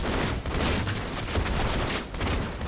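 Gunfire in Halo 2: Anniversary during a team doubles match, rapid dense bursts of shots rattling almost nonstop, loud and close, with brief gaps between volleys and no speech.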